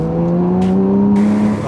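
A Farnbacher Loles tuned Porsche sports car drives with a loud, steady engine drone close to the microphone, pitch holding fairly even with a slight rise, and no voices.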